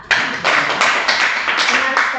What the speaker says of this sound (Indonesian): tepuk tangan untuk Tata